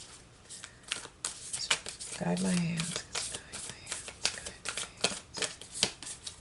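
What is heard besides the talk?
shuffling a tarot card deck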